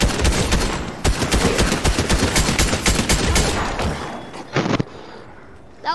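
Loud, fast volleys of gunshots in the video game Fortnite crack out for about four seconds, then fade into quieter scattered shots and a final distant burst.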